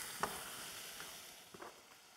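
Bacon frying in a pan, a steady soft sizzle with a few faint pops and stirring sounds, heard up close and alone.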